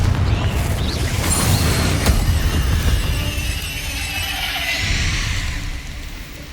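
A Confringo fire spell going off in Hogwarts Legacy, a loud fiery blast with a sharp crackling burst near two seconds, then a sustained rumbling roar and hiss that slowly fades, with no talk.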